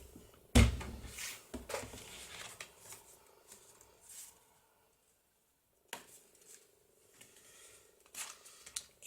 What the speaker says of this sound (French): Je place ma lame au bon endroit et je remonte jusqu'à l'autre